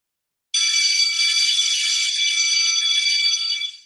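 A school's morning bell rings as one loud, continuous electric clang, starting abruptly and holding steady for about three seconds before cutting off, with no voices.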